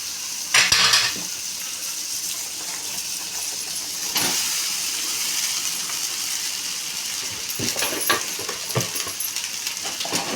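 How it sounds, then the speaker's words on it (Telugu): Cooked rice being stirred into cooked vegetables in a pot on the stove, with a steady sizzle and clinks and scrapes of a spoon against the metal pot throughout, close and fairly loud, with no speech. "ఇప్పుడు అన్నం వేసుకున్నాము"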